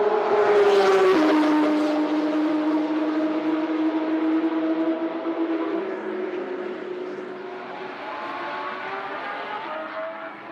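Loud Porsche road cars lap a race track during a sports car gathering. One engine screams close by at high revs, then its pitch drops as it passes. The engine drone fades gradually into the distance, steady and alone, with no voices.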